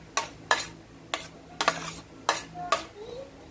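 A utensil scrapes and clinks around a bowl of okoy batter mixed with onions, kinchay and garlic, in six sharp strokes roughly every half second, close and fairly loud, with no talk.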